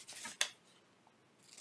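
Scissors snip once through paper while folding a small flip journaling book, a single sharp close cut in a quiet room with a faint rustle after.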